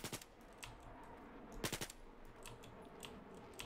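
Rifle gunfire in Battlefield 4, faint and distant, coming as short clustered bursts of quick sharp cracks separated by brief pauses, with no voice over it.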